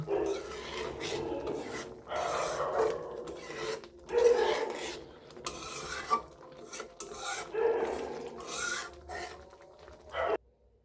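A utensil stirring bean seed dal in a pot, with repeated scraping, rasping strokes against the pot, fairly close and rhythmic, pausing briefly between passes, then a final clank before it stops.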